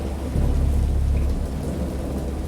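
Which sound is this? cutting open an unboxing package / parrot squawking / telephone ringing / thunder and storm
thunder and storm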